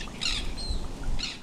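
Birds chirp at a lagoon in Moorea, French Polynesia, with two short bursts of high tweeting over a quiet, faint background, no talking.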